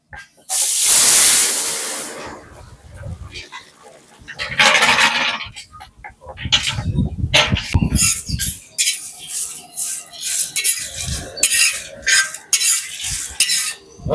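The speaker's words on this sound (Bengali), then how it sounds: "ফোড়নটা ভাজা হয়ে গেছে, এবার দিয়ে দেবো ডালটা।" Boiled dal poured into a hot tempering of mustard seeds, dried chili and bay leaf in a big pot erupts in a loud sizzle, followed by repeated scraping stirs and clattering bursts of frying.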